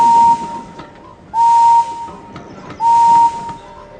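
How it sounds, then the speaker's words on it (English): A steam engine whistle from a Thomas & Friends video game sounds three separate times, each a loud, clear, half-second toot followed by a hissing tail, with short pauses in between. "One of these whistles belongs to James"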